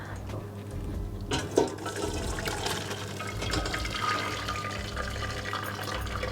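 Cooking water from boiled greens pours out steadily as the greens are drained, a continuous close splashing and gurgling stream with no talk.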